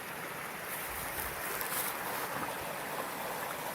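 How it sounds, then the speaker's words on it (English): Gentle water spills along a small creek, a soft, continuous rushing hiss heard alone without any talk. "while we have this really gentle sounding water falling along"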